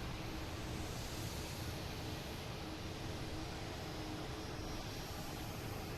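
A Boeing 737 airliner at Boston Logan produces a faint, steady broadband jet roar, distant and unbroken throughout.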